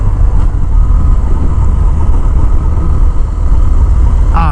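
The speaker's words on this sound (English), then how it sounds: "Very odd road noise on this bike" Steady low road and engine rumble from a Harley-Davidson Fat Bob demo motorcycle while riding, a continuous broadband drone with a faint wavering pulse and a brief higher squeal near the end.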